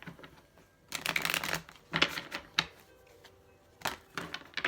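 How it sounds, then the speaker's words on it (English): Tarot cards shuffled by hand in a few separate bursts of riffling and flicking, close and crisp, with quiet pauses between them. "Okay, I'm dropping cards, so that means I need to stop shuffling."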